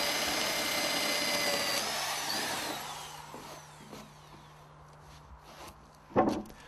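A steady mechanical whine of an electric drill boring holes in timber sill beams runs for a few seconds, then stops, followed by faint knocks and a sharp clatter near the end.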